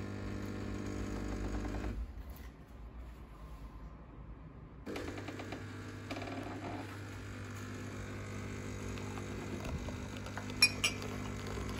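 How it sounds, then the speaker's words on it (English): A Melitta Barista TS coffee machine grinds coffee with a steady mechanical hum and whir that dips for a few seconds, then resumes with faint clinks near the end. "Our machine just grinds our coffee and start making our beverage."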